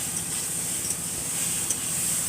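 Chilies sizzle and hiss softly in a hot pan during village home cooking, a faint steady frying sound with no talk.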